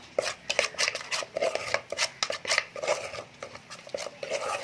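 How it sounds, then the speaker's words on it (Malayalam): Yogurt is mixed into a grilled chicken marinade in a bowl: brisk close spoon scrapes and clinks against the dish in an uneven rhythm of repeated strokes, with no talking. "കുറച്ച് തൈരും കൂടെ നമ്മൾ ആഡ് ചെയ്യണേ. നമുക്കൊന്ന് മിക്സ് ചെയ്തെടുക്കാം."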